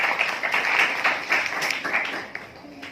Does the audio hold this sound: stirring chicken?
no